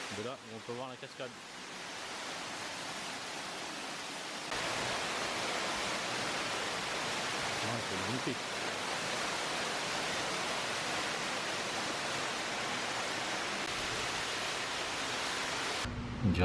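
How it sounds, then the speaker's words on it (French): A waterfall near Aomori, Japan, sends up a loud, steady rush of water that fills the whole scene without pause, and a voice speaks briefly at the start. "De là, on peut voir la cascade."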